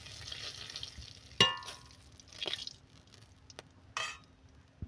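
Cumin seeds, dried chili and bay leaf hit hot oil, giving a soft, spitting sizzle that runs throughout, broken by a few sharp clinks and bursts of louder crackle as the spices are stirred.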